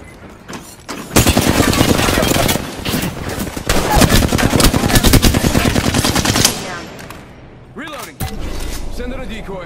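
Sustained automatic gunfire from the Apex Legends battle royale shooter, loud rapid bursts rattling for several seconds, pausing, then resuming, with voices speaking near the end.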